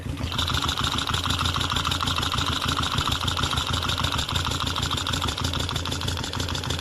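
A car engine idles steadily at close range, with a low rumble and a fast, even ticking from the valve train up top, and no voices over it.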